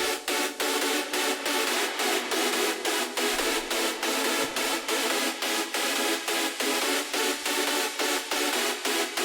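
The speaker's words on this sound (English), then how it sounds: "what sort of effect we're getting from the reverb" A fat synth lead with long-decay reverb plays rapid, evenly pulsing staccato notes, each gap washed over by a bright reverb tail, loud and alone throughout.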